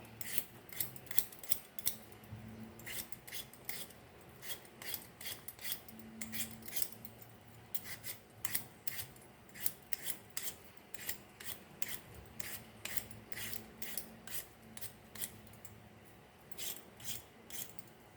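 Potatoes are peeled by hand for an Irish potato quiche, producing a quick series of close, dry scraping strokes in an irregular rhythm, fairly quiet, with brief pauses between bursts and no talking.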